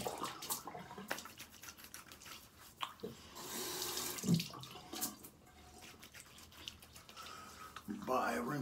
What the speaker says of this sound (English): By rinsing off with some nice ice cold New York City tap water